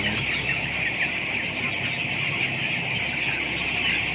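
A flock of two-week-old chickens clucks and cheeps constantly at close range, a dense overlapping chatter with no pauses.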